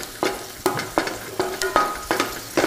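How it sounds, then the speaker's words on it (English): Big chunks of garlic fry in hot oil in a pan, a close, loud sizzle with a rhythmic scrape of stirring about every half second and no talking. "Now the garlic, you don't necessarily want it to turn brown, you just want it to get cooked."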